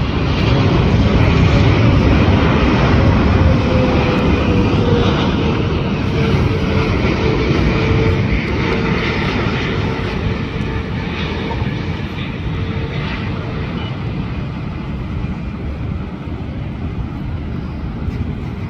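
A China Southern Boeing 777-300 airliner lands with a loud, broad jet roar that rumbles steadily from nearby and slowly fades over about nineteen seconds.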